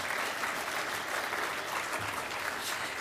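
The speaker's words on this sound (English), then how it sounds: "that should deserve a clap, don't you think?" An audience at an energy and climate change conference applauds, a steady, dense patter of clapping hands that holds evenly throughout at moderate distance.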